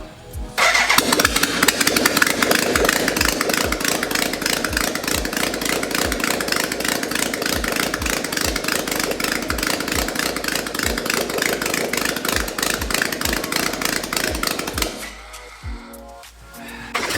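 A BMW K100 cafe racer motorcycle engine cranks and catches, then runs loud and close at a rough, fast idle with steady pulsing for about fourteen seconds before dying away.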